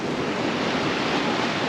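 Sea waves surge and splash against the rocks below a Cornish cliff, a loud, continuous roar of surf mixed with wind buffeting the microphone.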